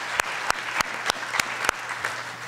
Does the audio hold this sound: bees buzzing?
no